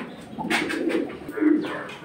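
Close, low pigeon cooing, a soft throaty rolling call repeated twice, with no other noise around it.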